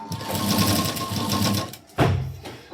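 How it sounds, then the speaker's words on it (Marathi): A sewing machine runs steadily as a folded fabric strip of piping is stitched onto a neckline, a fast, even whirr that breaks off briefly and then starts again, close and moderately loud. "डायरेक्ट आपण पट्टी फोल्ड करत करत शिलाई द्यायची."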